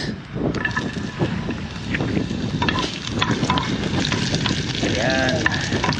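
Onion sizzles in hot cooking oil at an outdoor campsite, a steady crackling fry close by, with brief clinks and stirring noises on top.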